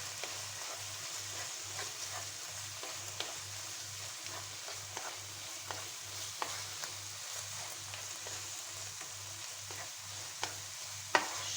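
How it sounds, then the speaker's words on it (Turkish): A pot of beef goulash seasoned with black pepper and chili flakes gets stirred, a soft continuous sizzle with a faint regular low pulse and occasional light scrapes, quiet and close. "karabiber ve son olarak pul biber ekliyoruz. Yine karıştırıyoruz."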